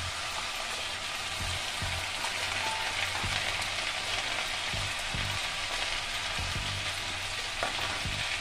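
Garlic paste frying in a pan sizzles steadily and densely, with occasional soft scrapes and knocks of stirring breaking through the continuous hiss, close and even throughout.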